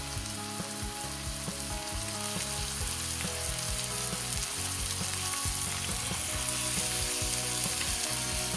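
Tilapia fillets frying in a pan, a steady loud sizzle with crackling and pops running throughout with no voices over it.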